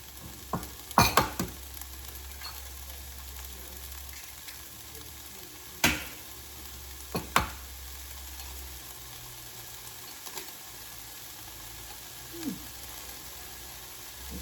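Vegetables crisping in a hot pan for an egg and veggie scramble, a constant soft sizzle and crackle broken by a few sharp clicks and knocks now and then, close by with no talking.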